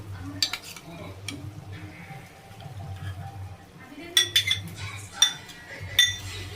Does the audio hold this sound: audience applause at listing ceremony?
no